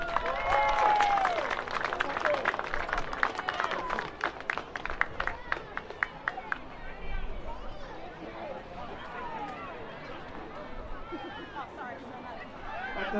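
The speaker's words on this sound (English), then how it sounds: "Round of applause, Wesley College." Crowd applause and clapping at a national secondary school tournament prize giving after the boys' championship final, loud at first and thinning out with scattered claps and background chatter.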